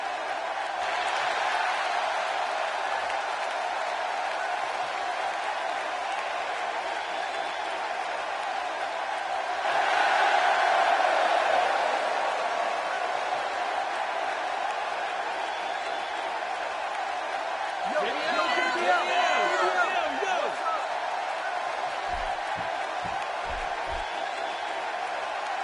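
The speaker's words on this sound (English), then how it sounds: "Wow, this crowd is absolutely crazy about this diva." Cheering arena crowd in the video game WWE 2K16 at a wrestling event, a sustained roar of applause and shouts that swells midway and again near the end, heard alone without talk.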